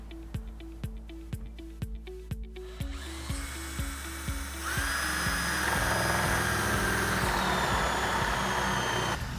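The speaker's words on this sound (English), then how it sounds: "my 22 millimeter spade drill bit to make those holes" Power drill fitted with a 22 mm spade bit boring holes into 44 mm thick wood: several quick stop-start bursts of the motor spinning up, then a longer continuous whine as the bit cuts into the timber, close and loud.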